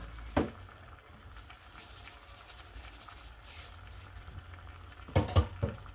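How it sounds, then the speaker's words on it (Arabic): Pieces of meat fry gently with browned onion and a pinch of salt in a pan, a soft, continuous sizzle marked by a few louder stirring scrapes near the start and end. "دابا غادي نخلي اللحم يطيب هاد التقطيعات واحد شويه حتى هما يتشحروا مع البصله ويطيبوا"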